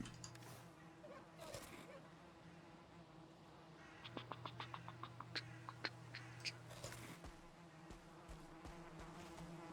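Buzzing bees in a colony-building video game hum faintly beneath a stream of soft, rhythmic clicking, with occasional voices talking over the game sounds.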